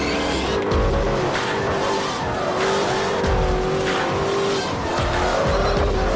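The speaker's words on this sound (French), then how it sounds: "On drift sur l'autoroute." Bugatti Veyron drifting on a highway in the racing game Forza Horizon, with a loud, continuous engine roar and repeated tire squeals and skids swelling and fading throughout, no voices.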